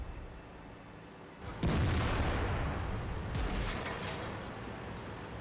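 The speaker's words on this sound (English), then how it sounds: "That sounded like it was an artillery shell." A heavy artillery shell explodes in World of Tanks, a sudden loud boom followed by a rumbling decay and a second burst of debris noise, with no talk.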